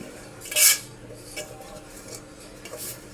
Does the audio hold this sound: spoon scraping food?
yes